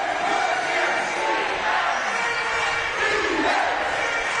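A basketball crowd at a Bristol Flyers versus London Lions game roars continuously in the arena, a dense wash of cheering and shouting that stays loud throughout.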